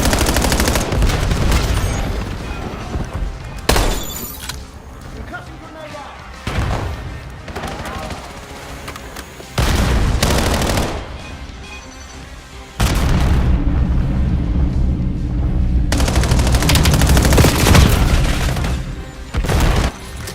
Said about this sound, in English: Cluster grenade sent.